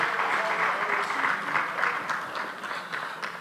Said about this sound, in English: a big round of applause for the Honorable Minister